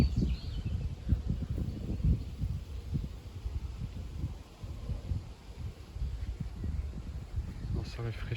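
Gusty wind blowing outdoors on an evening of sudden squalls and passing showers, a steady low rumbling roar with buffeting bursts across the microphone throughout.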